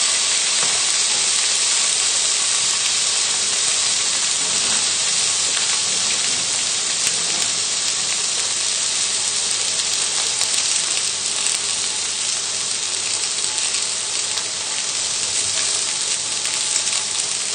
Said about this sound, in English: It should be a nice big sizzle.